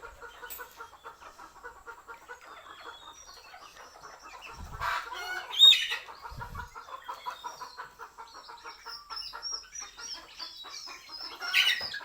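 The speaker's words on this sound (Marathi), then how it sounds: "आपल्या कोंबड्या कशा आवडीने कोबी खात आहेत" Chickens eating cabbage cluck and murmur steadily at close range, with a couple of sharper squawks and some faint scratching around them; no talking.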